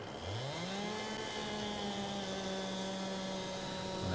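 A chainsaw in Farming Simulator 22 runs steadily as it cuts down a tree, a loud continuous engine drone with a high whine that holds from start to finish, with no pauses and nobody speaking.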